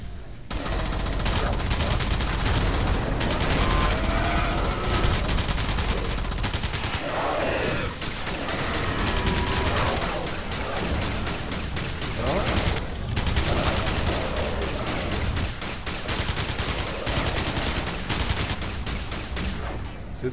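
Rapid automatic gunfire from the video game Alien Breed, dense sustained bursts running almost continuously with loud blasts, alongside game sound effects and occasional voices talking over the shooting.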